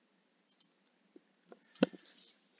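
A single sharp computer mouse click while resizing an image in GIMP, a short loud tick standing out after a few faint taps in an otherwise quiet room.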